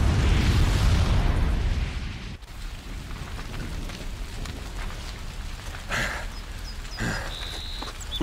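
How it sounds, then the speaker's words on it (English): Bomb booby trap blast in Horizon Zero Dawn: a loud, deep rumbling explosion for about two seconds that cuts off sharply, then fades into low debris and ambient noise with a few faint clatters and tones. "the booby trap on the bomb downstairs is gonna get set off"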